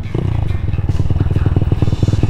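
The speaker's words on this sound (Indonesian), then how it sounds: "ini enaknya kalau pakai knalpot standar bobok ya." A Honda Monkey motorcycle on its stock exhaust chugs with a steady, rapid pulsing beat, heard close from the rider's position, with a faint voice in the background.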